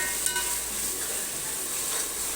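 Ginger garlic paste sautéing in a pan, a dense close hiss of frying oil with faint stirring scrapes throughout, steady and unbroken.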